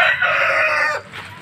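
A small-breed Peruvian Black Knight rooster crows once close by, a loud sustained call that cuts off sharply near the end, followed by a brief softer tail.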